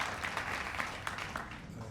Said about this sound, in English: another round of applause for Ken and Rachel and Merle for this great event